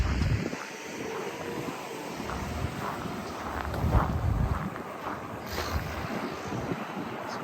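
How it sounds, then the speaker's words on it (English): Wind gusting outdoors on a winter walk in Regina during extreme cold, a steady broadband rush with mild swells and buffeting against the microphone, continuous throughout with no talk. "I think there's a bit more wind too"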